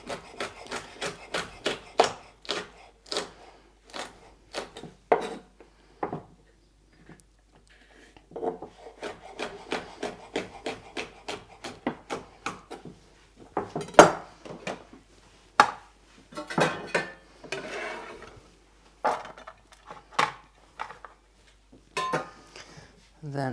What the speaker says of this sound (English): these other ones I'm just gonna stack up and cut into little ribbons